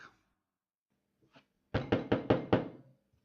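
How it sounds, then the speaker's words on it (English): A timid knock on a door: a couple of faint taps, then five quick, evenly spaced raps heard alone in a quiet room. "There was a timid knock."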